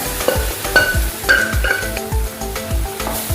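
Cooked beef tossed into masala in a hot pan, sizzling steadily while a utensil scrapes and stirs in repeated strokes, close and fairly loud with no voices.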